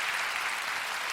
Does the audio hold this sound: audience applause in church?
yes